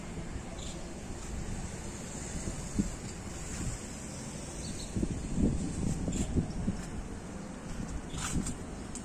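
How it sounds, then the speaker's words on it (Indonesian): Strong wind gusting across a house rooftop terrace, a continuous low roar and buffeting against the microphone that swells in places, steady and close throughout. "Anginnya kencang ya?"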